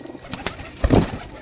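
Pigeons on a rooftop loft give a short, close coo, preceded by a few light taps and rustles.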